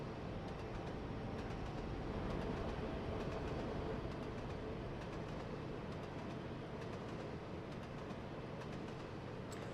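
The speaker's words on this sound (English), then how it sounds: "you may have noticed the track run sounds" Train wheels run over rail track in Trainz Simulator 3, behind a Class 66 freight locomotive on the Colchester–Harwich line: a steady, dense rumble with faint rhythmic clicks, continuous and fairly close, with no talking.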